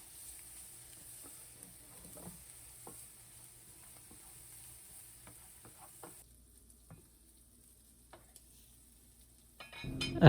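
Rice and pork being stirred together in a pan, with soft scraping and light tapping of a utensil over a low sizzle, fairly quiet and intermittent, ending with a louder clatter.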